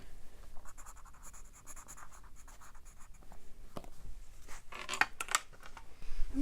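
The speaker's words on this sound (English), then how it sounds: "Just gonna write that down." A pen scratching across paper as palm measurements are written down during a bike fitting, soft close strokes in short bursts with a few louder scribbles near the end, no talking.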